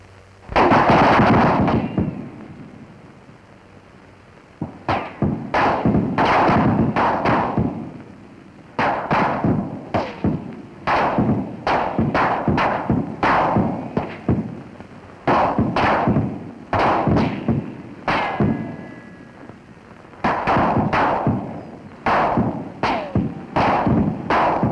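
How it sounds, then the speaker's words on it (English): Twelve Springfield rifles fire at soldiers under fire, and the shots arrive as a dense, ragged volley of sharp cracks and thuds. Each report lands hard and loud over a continuous roar. "Now listen to 12 Springfields as the soldier under fire hears them."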